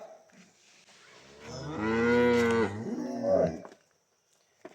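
A Holstein Friesian cow gives one long, loud moo that rises and falls, heard clearly on its own with no talking.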